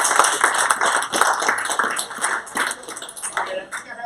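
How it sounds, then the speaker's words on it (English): A crowd at a school sports awards show claps steadily in a dense wash of applause, fairly loud and close. "let's give them one more warm up of applause."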